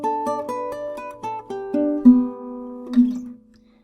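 Clean electric guitar plays a song section, a run of picked single notes and ringing chords at a slow, even pulse, then two sustained notes left to ring out and fade, played alone.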